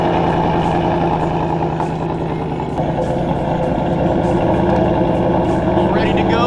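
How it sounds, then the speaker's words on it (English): A Ford Mustang with a Whipple supercharger idles after a cold start, a loud, steady, rumbling engine note that holds close and constant throughout without pause. "hop inside the car real quick and get a little bit of a cold start"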